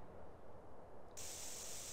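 Spray paint can from the video game GTA San Andreas, a steady close hiss of spraying that continues throughout the short moment.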